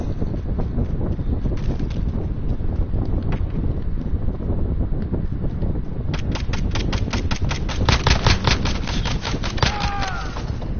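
Gunfire rattles in a 2v2 Call of Duty Modern Warfare multiplayer match: sparse shots, then dense rapid bursts in the second half over steady wind-like background noise.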